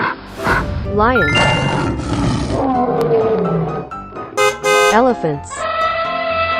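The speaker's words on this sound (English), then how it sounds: "Lion." A cartoon lion roars loudly in a kids' animal painting game, with bright jingly musical effects and playful sounds around the roar.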